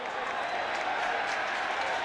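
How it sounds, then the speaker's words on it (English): A rugby stadium crowd at Glasgow Warriors v Ulster roars and claps steadily in protest over a dive, a dense, unbroken wash of noise with commentary running over it. "the crowd have made enough noise that the referee's attention's been brought to it"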